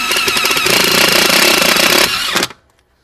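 A power drill bores into the metal floor of a Subaru with a loud, harsh, rattling roar that runs steadily for about two seconds before cutting off abruptly into near silence.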